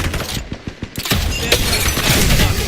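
Video game gunfire, a quick run of sharp rapid shots at close range followed by a louder burst and crackling, shattering noise that fills the rest of the moment, no talk.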